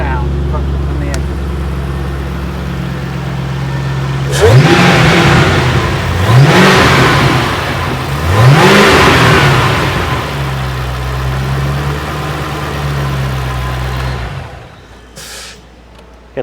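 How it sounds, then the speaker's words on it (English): A supercharged Roush car engine revs up several times in quick bursts, each climbing with a rising supercharger whine, then settles to a steady idle before cutting off. "The supercharger sound from the engine."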